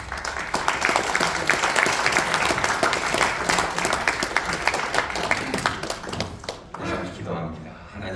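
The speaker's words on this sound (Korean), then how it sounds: "목사님 나오실 때 우리 큰 박수로 환영해 주시길 바라겠습니다" An audience at a Korean breakfast worship service applauds to welcome a pastor, dense sustained clapping that tapers off toward the end.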